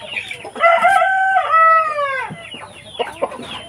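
Native chickens on a rural Philippine farm. A rooster gives one loud, close, drawn-out crow, followed by a run of quicker clucks and squawks from the flock.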